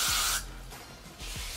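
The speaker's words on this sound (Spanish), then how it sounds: "voy a coger un poco de spray." Hair spray hisses onto a new wig in two short bursts, a loud breathy spray at the start and another near the end with a quiet gap between them.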